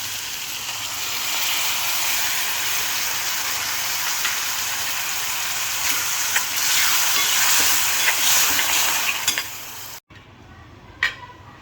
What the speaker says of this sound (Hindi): ये उबल रहा है